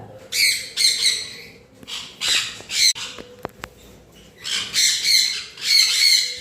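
Sun conures squawk in harsh, shrill bursts, several close together, then a short pause and another loud round of squawking.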